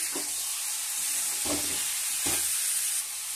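Salted chicken pieces for a papaya chicken curry sizzle in a pan, a bright continuous frying hiss close up, interrupted by three soft stirring scrapes, with no speech.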